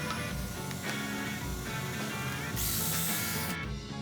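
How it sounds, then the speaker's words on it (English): A router table box is fastened with pocket screws, giving dense mechanical whirring and ratcheting with a brief harsher burst near the end, fairly close and continuous, with no talking. "I'm going to put it all together with pocket screws"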